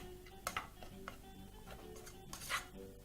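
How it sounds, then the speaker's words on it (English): A spoon breaking up chunks of cooked jeera rice, giving a few light metallic clinks and scrapes against the dish, quiet and close, spaced irregularly. "with a spoon, just proceed to break up your chunks of rice"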